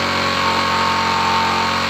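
A vehicle engine runs steadily while its mileage and RPM are being set, giving a constant, loud, even hum with no change in pitch and no voices.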